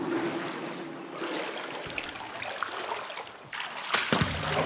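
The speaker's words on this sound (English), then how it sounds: "We are wading through very deep water now" Water sloshing and splashing as someone wades through deep flood water inside an abandoned train tunnel, a steady close churning with a few sharper splashes near the end.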